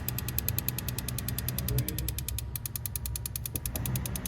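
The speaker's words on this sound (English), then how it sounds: "a little combustion happening. Testing injectors now." A Nissan S13 240SX engine turns over during a fuel injector test, a steady rapid mechanical chatter with a rough, rhythmic pulsing and a brief dip partway through, loud and close.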